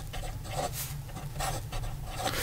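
A Visconti Millionaire fountain pen writing fast on paper, giving quiet, close scratchy strokes in a quick repeating rhythm over a low background hum.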